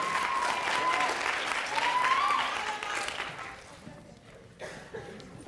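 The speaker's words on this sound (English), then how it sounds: "Please join me again in a round of applause for our 7th grade ready writing participants." A school audience at a grade 6–8 literacy competition gives a round of applause for the participants, sustained dense clapping with a faint whistle early on, tapering off toward the end into a few scattered claps.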